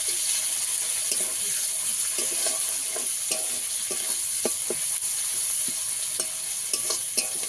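Two chopped onions sizzle in hot oil in a pan as they are stirred while cooking a crab kankla kosha. A steady, bright frying hiss runs throughout, broken by light clicks and scrapes from the stirring.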